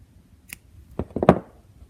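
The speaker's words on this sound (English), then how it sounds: "Cut the yarn," Scissors snipping through crochet yarn after finishing a bohemian leaf, a faint click followed by a short cluster of close snips, alone in a quiet room.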